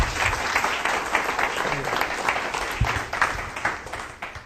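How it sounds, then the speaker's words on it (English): Applause from an audience welcoming a speaker to the stand at a research presentation, a steady round of clapping at moderate loudness that tapers slightly near the end, with a voice briefly audible beneath it. "I'd like us all to welcome Alex to the stand with a round of applause."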